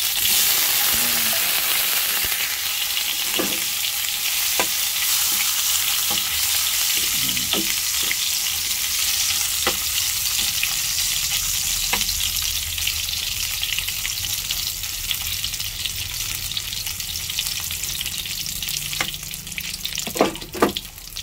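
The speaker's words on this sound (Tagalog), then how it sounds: "magpiprito tayo ng Japanese sausage" Japanese sausage fries in a pan with a steady, dense sizzle, broken by occasional clicks and taps of a utensil. The sizzle stays loud and continuous throughout, with no talking.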